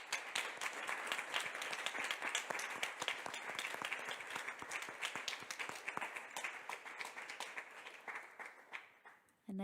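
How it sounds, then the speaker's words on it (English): An audience at a panel debate gives its speakers a round of applause, a thick wash of many hands clapping that tapers off toward the end before a brief sound cuts in. "we'd like you to all applaud our 5 speakers"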